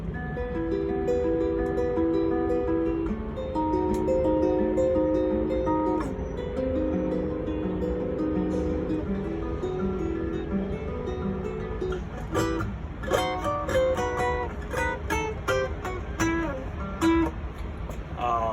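Steady fingerpicked acoustic guitar plays a gentle repeating pattern, later shifting to brighter, more percussive strummed chords; solo instrument, no voices.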